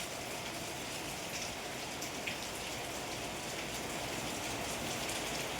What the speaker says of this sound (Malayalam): ഇന്ന് ഇതാണ് കേട്ടോ ഇവിടുത്തെ കാലാവസ്ഥ കാണുന്നുണ്ടല്ലോ അല്ലേ ഭയങ്കര മഴയാണ്